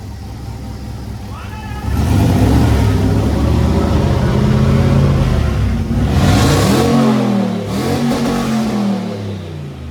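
A heavy diesel dump truck engine idles with a steady rumble, then revs up loudly and roars for several seconds before settling back, with voices faintly underneath.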